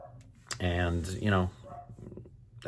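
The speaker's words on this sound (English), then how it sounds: "excuse the dogs." Dogs barking in a home: two loud, close barks in quick succession, followed by softer whimpering and rustling.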